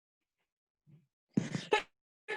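A single close sneeze in an online class, a short explosive burst, followed shortly after by a brief spoken reply.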